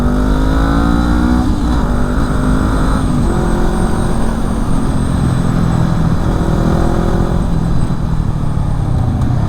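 A motorcycle powers out of a tight bend on a road between Nancy and Gérardmer, its engine loud and close, with the pitch climbing through several gear changes and wind rushing over the mic.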